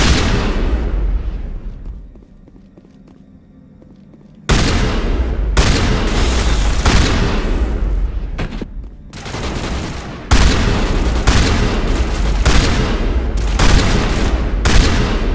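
Shotgun blasts ring out in Mass Effect: a string of loud, close, booming shots in quick succession, broken by a short quieter pause.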